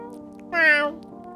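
A cat in a video game gives a single short, clear meow while being petted, close and alone over a quiet steady background hum.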